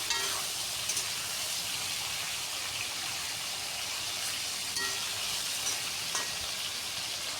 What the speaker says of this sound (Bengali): ঝিঙ্গেটাকে কিছুক্ষণ তেলের মধ্যে একটু ভাজা ভাজা করে নিচ্ছি।